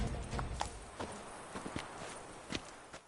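Hooves of Witcher 3's horse Roach clip-clopping at a walk in an irregular, moderately close rhythm of soft thuds over a faint ambient bed, with no talk.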